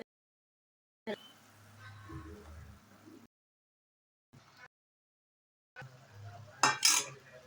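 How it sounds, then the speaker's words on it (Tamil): A ladle stirring batter into salted boiling water in a pot, with scraping and clinking in short separate bursts between silences and a sharper metallic clatter near the end. "கரண்டியை வச்சு நல்லா கட்டிப்படாமல் நல்லா கலந்து விட்டுறலாம்"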